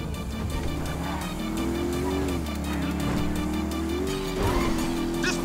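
A powerful motorcycle engine drones close by while riding in GTA V, holding a steady mid-pitched tone that rises and falls slightly with throttle, with a brief surge near the end and no talk.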